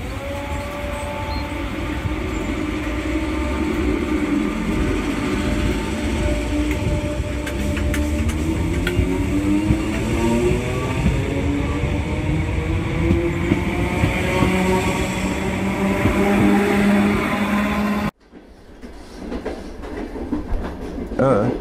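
A train rides along the tracks, heard from inside, with a continuous loud rumble and rhythmic clatter, then an abrupt cut to a quieter, sparser stretch near the end.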